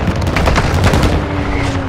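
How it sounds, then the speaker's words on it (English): Mortar strike explosions in a Call of Duty game come as a rapid burst of thudding blasts and crackling gunfire, loud and close, easing slightly toward the end. "Our mortar strike is inbound."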